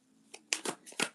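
Tarot cards drawn one at a time, several quick close papery snaps and slides in an uneven rhythm, quiet and isolated.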